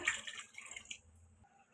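Boneless chicken pieces washed by hand in a bowl of water, with soft splashing and sloshing for about a second, then a quiet low hum. Close and fairly faint.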